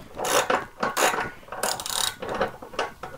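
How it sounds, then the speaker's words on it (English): A ratchet wrench clicks in quick bursts while loosening the nut on the gas tank of a fuel-injected Harley-Davidson Sportster, the close, loud metallic ratcheting repeated several times with no talk. "And ratchet that nut right off of there."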